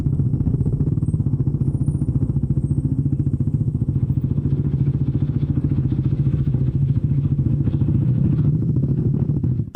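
A Bajaj Dominar NS400Z motorcycle engine runs loud and close, a steady, continuous drone that holds evenly throughout.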